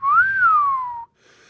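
A person imitates a catcall with their mouth, a single loud whistle that slides up and then glides down for about a second before stopping abruptly.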